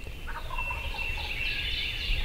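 A wild turkey longbeard gobbles faintly on the ground somewhere behind, in hardwood hill country at sunrise. The rattling call is distant and brief under a constant wash of songbirds and outdoor ambience.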